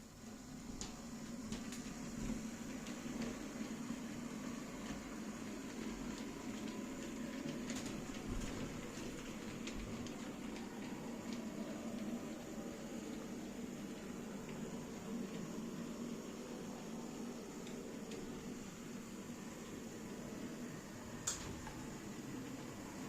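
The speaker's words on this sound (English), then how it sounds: "there's our freight train off on its journey" A model freight train runs along a layout's track, giving a steady, quiet, low rumble with a few faint clicks throughout and no talking.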